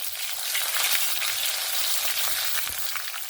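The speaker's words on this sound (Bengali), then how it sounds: "এখানে সব কিছু ভেজে নিয়েছি" Vegetables and a tomato fry steadily in a pan for a vegetarian bottle gourd dish, giving a continuous loud, close sizzle with faint stirring scrapes and no talk.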